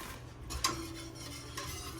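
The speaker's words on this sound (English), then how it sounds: "dump in your pound of brown sugar and stir that until it's dissolved" A spoon stirs brown sugar into warming apple cider in a pot on the stove, with soft scraping and clinks against the pot and a brief sharper knock, quiet and close with no talking.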